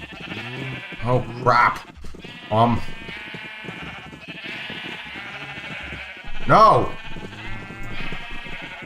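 Sheep bleat loudly in a video game, several wavering cries spread across the scene while someone talks between and over them.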